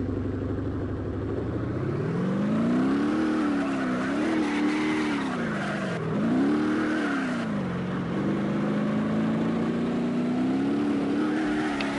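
A Corvette driving in BeamNG.drive, its engine note droning steadily and rising and falling in pitch as it revs and eases off, close and continuous with no talk.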